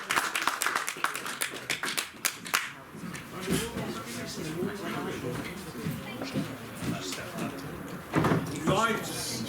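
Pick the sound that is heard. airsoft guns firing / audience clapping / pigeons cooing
audience clapping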